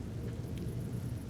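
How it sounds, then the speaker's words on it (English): Jungle rain with thunder in the survival game Empyrion Galactic Survival: a deep, continuous rumble under steady rain hiss, with no speech. "Oh my goodness, it's raining."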